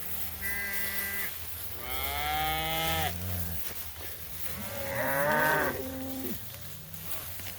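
Cattle in a lush fall stockpile pasture with a bull present, giving several long, loud moos one after another, some rising and bending in pitch, close by and with no talk.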